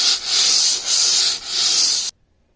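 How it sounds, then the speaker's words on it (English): Three loud, close back-and-forth strokes of 150-grit sandpaper rasp across a surface, then stop abruptly into silence. "Just a finer grit to go over all the rough sanding that you did."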